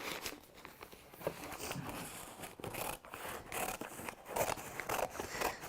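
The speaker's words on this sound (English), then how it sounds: "Paper, scissors." Scissors snip through paper at a craft table, with close, quiet crisp cuts and papery rustling in an irregular rhythm and no talking.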